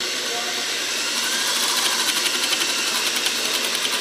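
A power drill whirs with a fast, pulsing mechanical buzz that grows slightly stronger partway through, close and continuous, during disassembly of a Flakpanzer's suspension.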